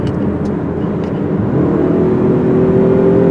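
A 2021 Mazda CX-30 Turbo accelerates hard, its engine note rising in a steady, loud drone with a faint climbing whine, heard from inside the car.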